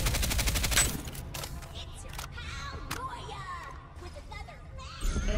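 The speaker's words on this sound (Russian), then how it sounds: "Здесь кто-то стреляет" Rapid gunfire bursts from a Farlight 84 battle, a dense fusillade of shots in the opening second followed by scattered distant cracks, with a voice talking over the action.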